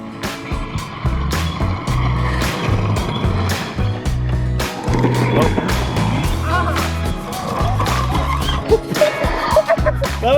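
Exway X1 Riot electric skateboard rolling along a road, a steady low wheel rumble with scraping and skidding bursts, while people talk and shout nearby.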